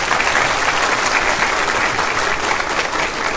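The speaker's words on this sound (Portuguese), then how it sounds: "Palmas." An audience at a Ciro Gomes talk at UNESC in Criciúma bursts into dense, loud applause, a continuous roar of many hands clapping at once that holds steady without a break.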